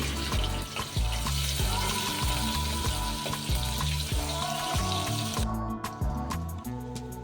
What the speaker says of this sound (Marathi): त्यानंतर 15 लसूण पाकळ्या ठेचून घालू